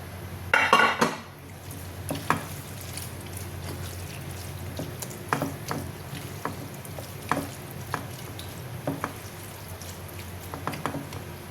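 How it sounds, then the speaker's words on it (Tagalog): Mango gets mixed into gulaman in a bowl, with soft scattered clinks and scrapes of a spoon against the bowl and a louder rattle at the start, and no talk. "ihalo na natin dito sa ating gulaman ang ating mango"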